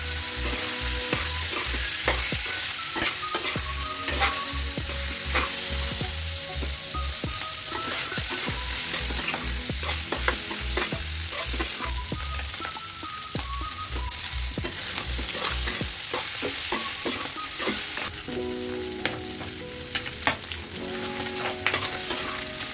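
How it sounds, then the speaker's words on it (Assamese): Pork pieces fry in a little oil for a pickle, a dense and steady sizzle crackling close up, with stirring scrapes and occasional clinks over a low background hum. "এতিয়া দিম মাংসখিনি।"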